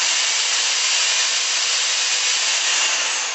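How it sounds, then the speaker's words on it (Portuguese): A hammer drill in drill mode, running forward, gives a steady, constant whirring hiss, loud and close, without pause for a few seconds. "Então aqui está no modo furadeira,"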